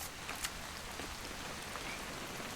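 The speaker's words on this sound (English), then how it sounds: "It's gonna rain the whole weekend, isn't it?" Steady rain in the video game What Remains of Edith Finch, a soft, even hiss of falling drops throughout with a few faint taps, heard alone without voices.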